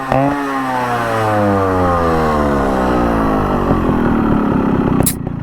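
A Yamaha RX 135 two-stroke motorcycle engine revs loud and close, its buzzing note climbing and then sliding steadily down as the throttle eases, followed by a brief sharp burst near the end.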